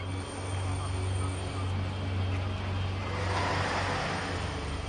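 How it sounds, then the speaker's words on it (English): A brand new Boeing 787 Dreamliner making an emergency landing at Takamatsu, Japan, heard as a steady, broad jet engine roar with a low hum, holding even and fairly loud for about five seconds. "A brand new Boeing 787 Dreamliner makes an emergency landing."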